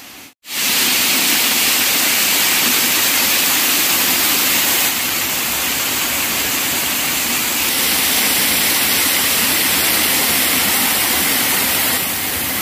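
Sangkapane waterfall roars as a loud, steady, broadband rush of falling water over slippery rocks, constant and close with no voices over it.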